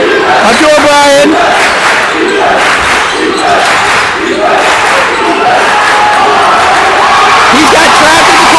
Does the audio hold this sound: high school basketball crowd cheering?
yes